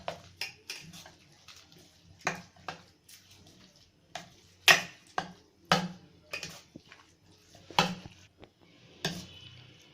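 Curd rice being mixed by hand or spoon in a bowl, giving a series of near, irregular soft scrapes and light clinks, each one short, with a few louder knocks against the dish and quiet pauses between.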